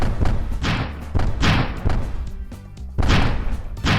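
A bomb explodes in the multiplayer video game Stumble Guys, heard as a series of heavy, booming thuds that repeat in quick rhythm against steady game background noise.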